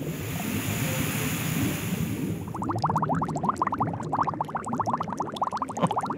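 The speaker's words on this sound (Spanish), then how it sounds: "El reprocesador de agua, Tomasito." A homemade water reprocessor for reusing tooth-brushing water in the toilet cistern gurgles and bubbles steadily, with a rapid train of liquid pops emerging after a few seconds over a continuous low rumble.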